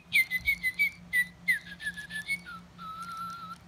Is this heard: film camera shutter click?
no